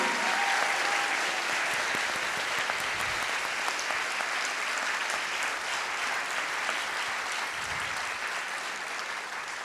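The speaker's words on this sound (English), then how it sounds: "please join me in giving a resounding round of applause to Srinivas" An audience at a tabla debut performance event gives a long, even round of applause, dense clapping sustained for nearly ten seconds at a moderate level with no talk over it.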